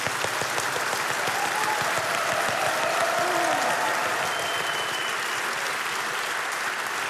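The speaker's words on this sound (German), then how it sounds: "Applaus" Sustained audience applause at a televised New Year's Eve comedy show, a dense, steady wash of clapping from a large crowd that continues evenly throughout without any talk.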